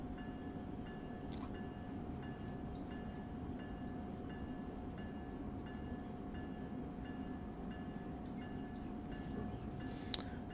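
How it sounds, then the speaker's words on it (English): A locomotive bell on an ALP-46 electric locomotive in Train Sim World 3, running the Northeast Corridor between New York and Trenton, dings steadily and evenly throughout over a low, constant rumble of the train. "Let's turn on the bell here."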